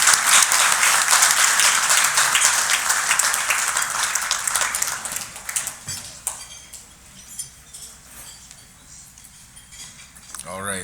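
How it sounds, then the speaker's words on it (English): A crowd at a golf tournament claps loudly and continuously for several seconds, the applause gradually thinning and fading out toward the end. "let's give a big round of applause"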